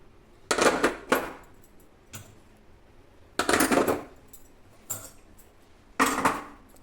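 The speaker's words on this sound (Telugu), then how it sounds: "ఈ విధంగా ప్లేట్లు పెట్టేసుకోండి." Plates set down one after another on a kitchen surface at home before lunch, several separate clattering clinks with short quiet gaps between them, close and fairly loud, with no talking.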